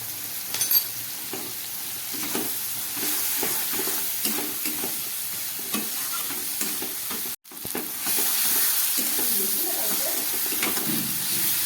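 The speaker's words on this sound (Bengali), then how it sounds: "খুব ভালো করে কষিয়ে নিচ্ছি" Spices and chilli powder being stirred and sautéed in a pan for a shrimp curry, giving a steady close sizzle with scraping stir strokes throughout and one brief break partway through.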